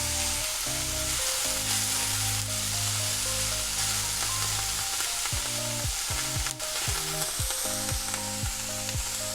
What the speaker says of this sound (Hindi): हल्का सा और फ्राई होने देते हैं इनको।